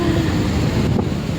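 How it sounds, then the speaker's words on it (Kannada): Cold wind buffets a handheld microphone in Madikeri, a brief, loud, steady low rumble with no voices. "ಗಾಳಿ ಸೌಂಡ್ ಎಲ್ಲ ಕೇಳ್ಬೋದು"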